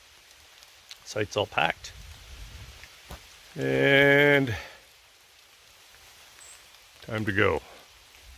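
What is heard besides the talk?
rain falling on a tent campsite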